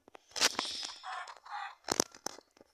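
Short bursts of clucking from a Minecraft chicken, with a few sharp squawks, fairly close and clear with brief pauses between calls.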